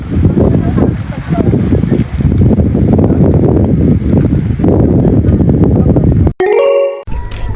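Heavy, gusty wind roars steadily against a tent on the summit of Mount Brigino for several seconds, then cuts off abruptly into a bright, chiming electronic tone.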